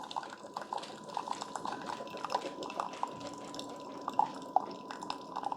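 A Keurig K-Supreme smart single-serve coffee maker brews slowly on its most intense setting, with steady close drips and trickling water over a low hum and no voices.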